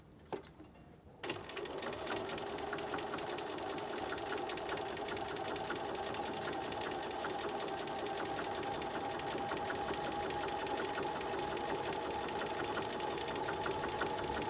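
A sewing machine stitches through a fabric mask, running steadily and close after a brief quiet start, its buzzing motor and rapid needle clatter continuing unbroken to the end.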